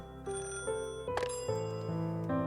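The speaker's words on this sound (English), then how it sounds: "The phone is ringing." A telephone ringing in a ramen restaurant video game, a bright electronic ringtone with repeated tonal notes and a sharp burst midway, clear and fairly loud with no talking.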